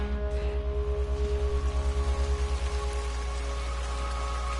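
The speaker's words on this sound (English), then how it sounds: "It's already raining here." Steady rain falls across an alien planet in No Man's Sky, a continuous wash of droplets over a low pulsing engine or ambient hum, with no voices.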